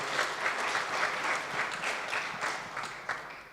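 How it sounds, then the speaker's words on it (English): Brief burst of clapping from a conference audience at an international tax conference, a dense patter of many hands at moderate distance, steady then tapering. "Please big applause for the 4 best"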